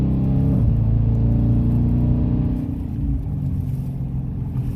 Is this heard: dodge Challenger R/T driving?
yes